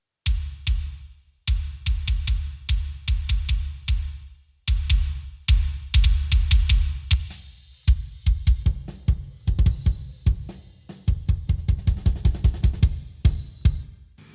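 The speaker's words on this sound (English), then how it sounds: "So this first kick sounds like this" A processed rock/metal kick drum with EQ and trigger, punchy and snappy: repeated loud kick hits in fast rhythmic patterns with brief gaps, played alone throughout.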